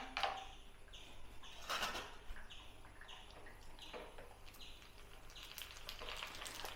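Puris for pani puri sizzle and bubble in hot oil, a quiet crackling fry with bursts of sputtering as the dough hits the oil.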